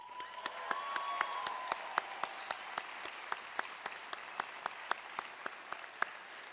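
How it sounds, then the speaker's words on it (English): A ceremony audience at a university commencement claps, a steady broad wash of hand claps with a few sharper nearby claps standing out, going on for several seconds at moderate distance. "I think that deserves another round of applause."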